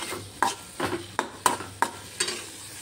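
Brinjal fries in a pan for a dry vegetable dish, a spoon stirring it in about six evenly spaced scrapes over a soft steady sizzle, close and without speech.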